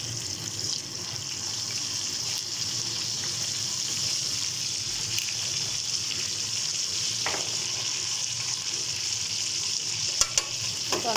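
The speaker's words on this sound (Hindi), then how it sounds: "टिक्कियाँ एकदम फ्राई हो रही हैं" Tikkis fry in a pan, making a steady, moderately loud sizzle that carries on evenly with a few faint clinks near the end and no voices.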